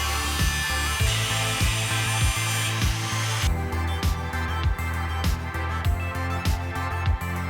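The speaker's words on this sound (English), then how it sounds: "A couple of the lag screws were going to get in the way of the 2x6, so I ground them off." Grinding off lag screws attached to a wall-mounted frame in a woodworking shop, heard as steady loud tool noise that continues throughout, with repeated sharp clacks and ratcheting impacts that grow brighter and harsher partway through.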